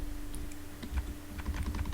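Keys clatter on a computer keyboard while an SQL select query is typed, a steady run of light, close taps with a few heavier strokes over a faint hum.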